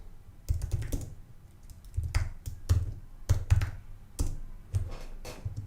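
Typing on a computer keyboard, up close, in uneven bursts of clicky taps and key thumps with short pauses between, heard alone with no voices.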